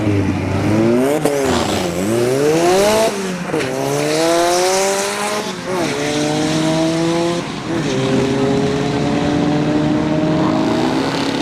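A turbocharged Honda Accord wagon makes a drag strip run, its engine roaring loudly and revving through several rising gear pulls with brief drops between shifts, the sound sustained and close throughout, no voices.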